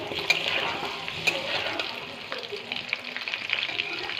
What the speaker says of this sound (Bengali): আলু আর পেঁয়াজ একসাথে লাল লাল করে ভাজা হয়ে গেলে পরে